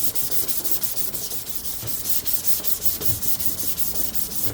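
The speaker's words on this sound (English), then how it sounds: "Just want to get all over it. Get it nice and sanded." A plastic headlight housing is worked with a DA sander and 400-grit paper, giving a steady, close abrasive rubbing hiss with even rhythmic strokes throughout and no voices.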